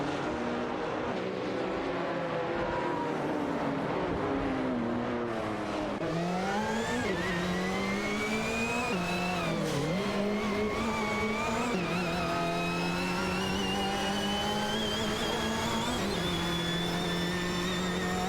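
Race cars in an AI racing video game roar past in a continuous engine drone, pitch rising and falling through shifts and corners, loud and steady from start to finish.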